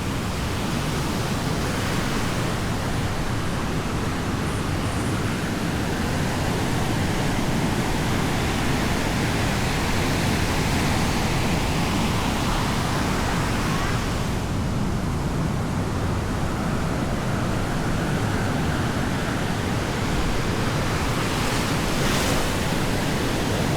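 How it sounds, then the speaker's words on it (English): Waves break continuously on a beach in Sayulita, a broad steady wash of surf with gentle swells and a little wind across the microphone, loud and unbroken, with no voices. "this is a pretty decent little beach"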